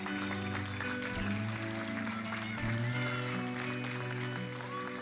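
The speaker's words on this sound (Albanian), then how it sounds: "të gjithë qytetarët e bën me zë, me duar trokitje e brohoritje" Crowd of citizens applauding and cheering in thanks to doctors and nurses during COVID-19, a steady wash of clapping under music-like tones and talk throughout.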